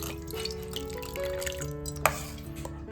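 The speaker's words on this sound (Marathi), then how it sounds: "मग इकडे ना आपण गाळणी घेतलेली आहे आणि गाळणीमध्ये ना सर्व पाणी गाळून घेतोय बघा." Water strains through a large sieve, draining away from homemade butter churned from milk cream: soft, quiet trickling and scattered drips, with one sharp click near the middle.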